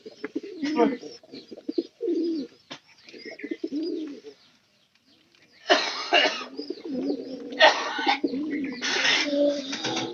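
A pigeon cooing close by in repeated soft throaty phrases, broken by a short pause, followed by louder bursts of noise.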